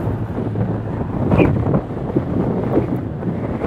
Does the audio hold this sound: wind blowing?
yes